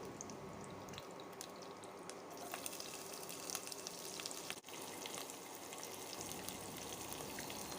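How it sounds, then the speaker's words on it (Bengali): Chopped onions and whole spices frying in hot oil for a Bangladeshi dish, giving a steady, soft, dense sizzle with faint crackles throughout. "গরম মশলা ফোড়ন দেওয়া হয়ে গেলে এর মধ্যে দিয়ে দিব কুচি করে কেটে রাখা 2টি পেঁয়াজ।"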